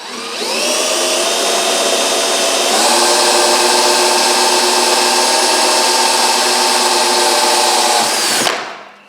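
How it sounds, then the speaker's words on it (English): A power drill drives drywall screws into wood while building a garage workbench, with a loud sustained motor whine that steps up in pitch partway through, runs steadily for several seconds, then cuts off abruptly. "We're just going to drill through it and put like drywall screws in it."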